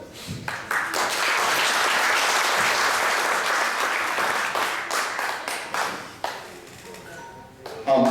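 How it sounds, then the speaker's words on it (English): Debate audience applauding at length, a dense steady wash of clapping that swells early, holds, then thins toward the end before a brief renewed burst, with some voices mixed in. "applauding for people at the end is nice"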